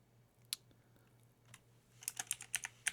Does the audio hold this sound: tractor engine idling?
no